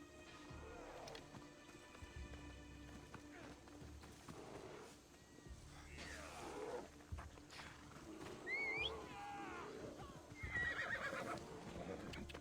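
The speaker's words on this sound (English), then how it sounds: "isn't that Theodoros? The horse?" A horse whinnies several times in Assassin's Creed Odyssey over galloping hoofbeats and ambient game noise, with a few bright chirps and tones scattered throughout.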